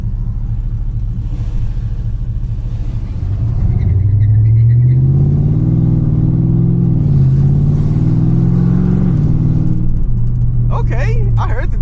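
A 600 hp Dodge Charger Scat Pack with a turbo, its engine rumbling at idle then revving up and holding high while driving in sport mode, loud and close from inside the car, with a brief voice near the end.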